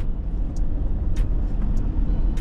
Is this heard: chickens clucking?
no